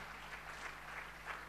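Congregation clapping hands during a Sunday church service in Pune, a faint, steady wash of applause with no voices, held evenly across the short stretch.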